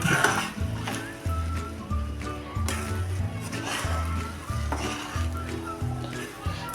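Cooked jaggery daliya sanja being stirred in a pan over a gas flame, the spoon scraping and clunking in a steady repeated rhythm, close and fairly loud with a soft background sizzle.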